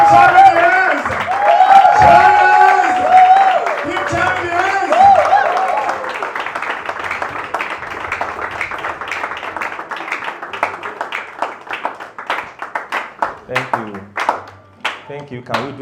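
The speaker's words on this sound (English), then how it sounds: "with a loud ovation and a resounding applause" Audience at a motivational talk event gives an ovation welcoming a speaker to the stage, loud voices and cheering at first, then clapping that thins into scattered claps toward the end.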